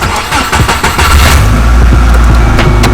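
A Subaru Forester engine being rebuilt cranks with rapid starter pulses, then catches at about one second and settles into a loud, steady, close idle.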